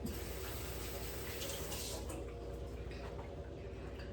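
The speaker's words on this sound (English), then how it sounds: "I'm going to rinse my hands off." Water from a running tap pours steadily as hands are rinsed under it, a continuous close hiss and splash with a few small shifts in flow.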